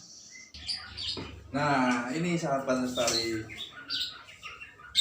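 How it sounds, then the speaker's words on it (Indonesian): White-rumped shama (murai batu) birds kept in a cage give chirping calls and song, mostly running beneath someone talking close to the microphone, with brief clearer phrases before and after the speech. "murai batu yang sudah saya jadikan selama 1 minggu di dalam sangkar"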